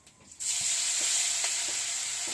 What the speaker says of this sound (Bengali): এবার পেঁয়াজ বাটাটা দিয়ে দেবো